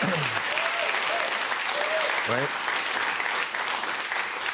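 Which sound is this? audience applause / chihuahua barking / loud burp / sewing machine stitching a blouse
audience applause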